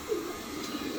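Pigeons cooing softly and steadily, low murmuring calls close by with faint background noise and no talk.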